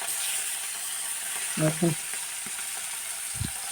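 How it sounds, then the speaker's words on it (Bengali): Fish fries in hot oil over a low flame in a home kitchen, giving a steady, loud sizzling hiss throughout; a speaker briefly talks over it. "এইটা তেলটা গরম হয়ে গেছে, আমি হালকা আঁচে মাছটা ভেজে নেব।"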